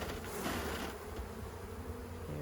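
A faint, steady hum of honeybees buzzing close by at an open hive during an inspection, a soft continuous drone with no voices.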